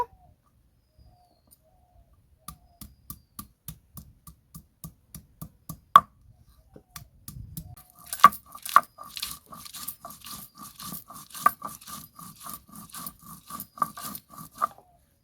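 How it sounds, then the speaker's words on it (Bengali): Ginger and green chillies are ground into paste by hand for jhinge sukto, producing a run of rhythmic scraping strokes that quicken and grow denser, with birds calling faintly in the background. "আদা কাঁচা লঙ্কা একই সাথে বেটে নেব"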